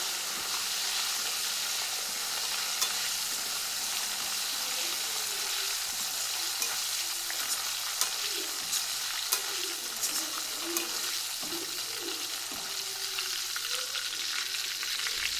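Turmeric water hits a hot pan in a Kerala-style snack preparation, setting off a steady, loud sizzle and hiss that runs unbroken for the whole stretch, with occasional light scrapes and clinks of stirring near at hand.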